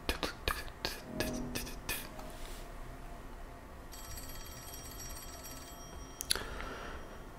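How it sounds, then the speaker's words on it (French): A telephone rings in a room during a racing video game session, a steady electronic ringing tone sustained for several seconds amid clicks and light background noise, with a sharp burst near the end. "Ok, le téléphone sonne."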